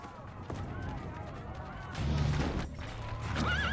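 Horse neighing in the Assassin's Creed Brotherhood video game during a castle siege scene, a short rising whinny near the end over a dense rumble of battle noise and game ambience.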